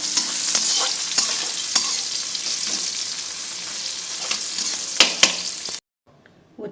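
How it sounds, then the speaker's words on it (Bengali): Sliced bitter gourd frying in a pan sizzles steadily and loudly while a spatula stirs it with sharp scraping clicks. Near the end the sizzle cuts off to quiet. "তাই উচ্ছেগুলো আমি ভাজছি।"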